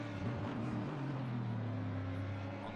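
A GT3 race car in Assetto Corsa Competizione at Zolder brakes hard into the final chicane while dropping to first gear; its low, droning engine note holds fairly steady, moderately faint, with no speech.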